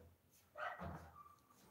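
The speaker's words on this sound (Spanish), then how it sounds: "justo le acabo de cerrar la puerta porque estaba ladrando" A single dog bark, fairly close but soft, stands out briefly midway against a quiet indoor background.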